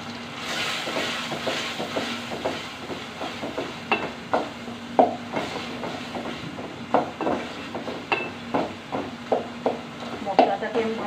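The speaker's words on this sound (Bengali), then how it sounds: "মশলাটাকে আমি ভালো করে কষিয়ে নেব।" Spice paste with chili powder fries in a pan for a fish dish while a spoon scrapes and stirs in a steady, rhythmic pattern over a low sizzle. A voice talks throughout.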